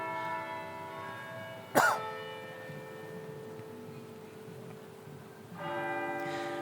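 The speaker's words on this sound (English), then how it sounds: "You can hear the cathedral bells chiming." Cathedral bells chime in the late afternoon, a sustained ringing tone with rich overtones that carries through the whole stretch, swelling again near the end, with a sharp cough-like noise cutting in once.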